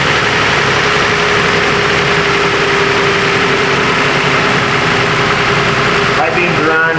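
A 2011 Toyota Sienna engine idles with its high beams, blower motor on high, rear defogger and seat heaters all switched on. It makes a steady, close, even hum that holds unchanged throughout, with a faint shift near the end.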